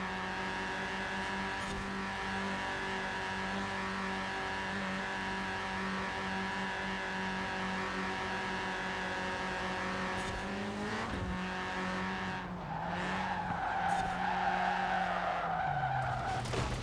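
A race car in Forza Horizon 4 holds a steady high engine drone with sustained tire skidding and squeal through a long drift, then the pitch shifts and revs as it changes gear near the end, loud and continuous.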